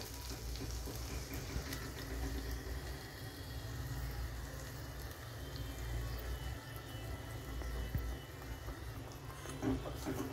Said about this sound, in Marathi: हे वाटण आपल्याला चांगलं तेल सुटेपर्यंत परतून घ्यायचंय